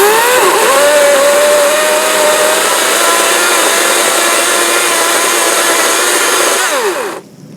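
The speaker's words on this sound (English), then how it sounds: "I can actually put the chainsaw into the tree and start the rotation process" EGO 14-inch battery chainsaw cutting through a fallen tree, a loud steady high-pitched whine held for about seven seconds before it abruptly cuts off at the end.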